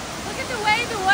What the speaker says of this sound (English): Look at the way the water cascades on the steps.